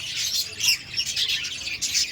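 Lovebirds, finches and Java sparrows chirp busily and continuously while feeding, a dense flurry of high, overlapping tweets with no voices.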